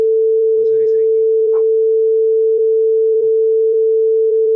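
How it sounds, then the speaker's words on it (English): Buzzer on an embedded washing machine controller board sounding a single steady, unbroken electronic tone throughout, loud and close, while a person speaks briefly over it. "The buzzer is ringing."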